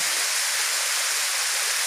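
Steady broadband rush of falling water, a small waterfall in Leyte, Philippines, splashing continuously nearby with no voices, even and unbroken throughout.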